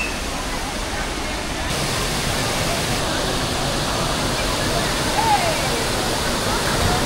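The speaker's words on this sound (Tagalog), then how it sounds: "Tambugahay Falls" Tambugahay Falls in Siquijor pours in a steady, dense roar of rushing water, continuous and close throughout with no clear breaks.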